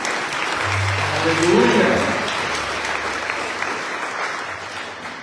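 Church congregation applauding throughout, a dense steady wash of clapping with a voice calling out over it and low sustained tones beneath.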